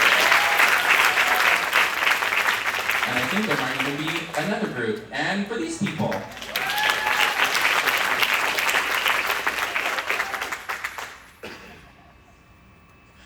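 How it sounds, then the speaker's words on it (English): An audience at a real estate sales meeting gives loud, steady applause that dips briefly while a presenter speaks over it, then swells again and fades out near the end. "Let's give a round of applause"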